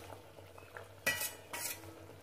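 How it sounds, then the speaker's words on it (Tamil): Eggplant drops into boiling, oily kuzhambu gravy in a pot, giving two quick bursts of splashing sizzle against a quiet kitchen background. "இப்போ நம்ம அந்த கத்திரிக்காயை போட்டுடலாம்."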